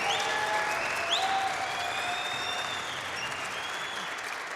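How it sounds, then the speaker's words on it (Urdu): An audience bursts into sustained applause at a youth empowerment event, a dense, steady wash of many hands clapping that carries on evenly for several seconds with a few high tones over it. "اپریسیشن کا سب سے سستا طریقہ تالیاں ہیں"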